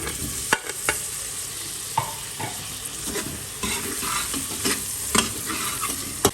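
Tomatoes sizzle steadily in a hot pan for beef nihari while a spoon scrapes and stirs, with occasional sharp clicks against the pan.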